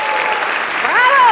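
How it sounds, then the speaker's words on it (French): An awards-ceremony audience at Swiss Performing Arts 2022 applauds to welcome the Ballet Junior de Genève, full steady clapping from a large crowd, loud and continuous, with a voice rising over it toward the end. "Veuillez accueillir à grands coups d'applaudissements le Ballet Junior de Genève."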